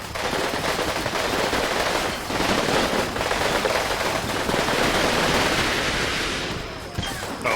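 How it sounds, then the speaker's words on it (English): Sustained, dense machine-gun fire rattles continuously from the World War II Berlin 1945 wargame Combat Mission Fire and Rubble, loud and unbroken with overlapping bursts throughout. "they have a machine gun there as well"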